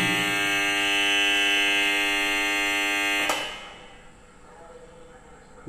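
A generator changeover alarm buzzer drones loudly and continuously for about three seconds as the supply is switched from the generator to mains power, then cuts off abruptly, leaving a quiet background.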